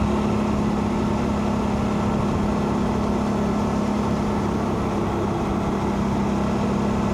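A car cruising at speed on a country lane toward Wyndham, a steady loud engine drone and road rumble with a constant low tone and no change in pace, and no talking.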